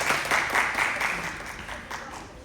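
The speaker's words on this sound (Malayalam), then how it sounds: "ഒരു കയ്യടി." Audience applause at a school Malayalam class annual show in Wisconsin, a steady wash of clapping that fades gradually over a couple of seconds.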